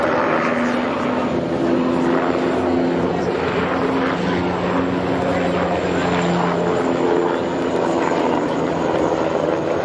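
A Tigre attack helicopter flies at an air show, its rotor and engine producing a continuous throbbing drone that stays loud and fairly close throughout.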